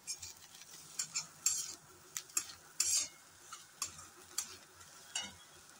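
Okra tossed with grated coconut, crushed peanut powder and dry masala in a pan, a spoon scraping and clacking in irregular strokes over a soft sizzle, close and fairly loud.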